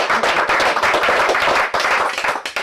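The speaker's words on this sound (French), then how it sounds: "On applaudit?" An audience applauds after a memory performance on stage, producing loud, dense, continuous clapping that holds steady for nearly three seconds.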